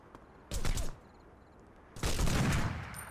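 Gunfire in the video game 25 To Life: a short burst of shots, a brief lull, then a longer sustained volley of rapid fire, loud and close.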